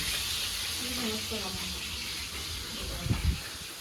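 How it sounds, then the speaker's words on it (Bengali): Eel fish frying in a hot pan for a curry, giving a steady close sizzle and hiss throughout with a brief louder burst of spattering near the end. "হ্যাঁ, মাছ ভাজছে"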